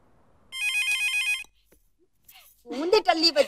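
A telephone rings in a 2003 Pakistani Punjabi film: one loud, bright electronic ring burst of about a second, then a brief silence before a voice begins speaking.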